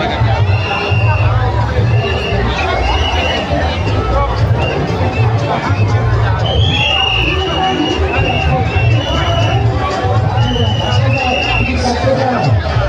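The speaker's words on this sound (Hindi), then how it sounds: "यहाँ भक्तों की भीड़ उमड़ रही है।" A dense crowd of devotees at a Durga Puja pandal in Ranchi, loud continuous babble of many voices and footsteps close around, with occasional higher calls rising through the hubbub.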